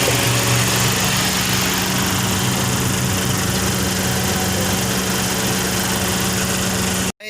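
A car's radiator fan runs with the engine going, on a vehicle with hard starting, a radiator fan that stays on and a lit check engine light; a steady, loud whirring hum and engine drone that cuts off abruptly at the end.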